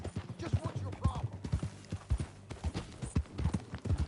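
Steady clip-clop of a horse's hooves as a rider travels at a walk in the Red Dead Redemption video game, close and rhythmic throughout.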